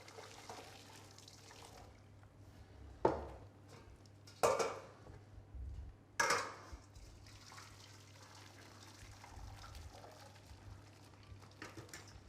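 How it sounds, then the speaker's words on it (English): Cooked cauliflower water is drained from a pan in a home kitchen, with a low trickle of liquid and a few sharp clanks of the metal pan against the sink, heard close and fairly quiet. "drain all the water off and then pop it back into the pan"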